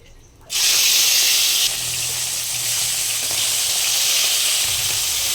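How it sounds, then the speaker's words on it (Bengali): Tengra fish, salted and rubbed with turmeric, drop into hot oil in a kadai, setting off a sudden loud, close sizzle that stays strong and steady throughout. "আমি কড়াতে তেল দিয়ে দিয়েছি তেলটা গরম হওয়ার পরে মাছগুলো আমি ছেড়ে দেবো"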